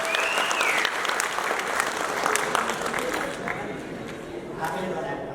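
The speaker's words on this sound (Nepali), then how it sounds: "एकपल्ट ताली बजाउनुहोस् न खुसी" Crowd applause at a Nepali political gathering, a steady wash of clapping with murmuring voices and chatter mixed in, moderately loud and fading slightly toward the end.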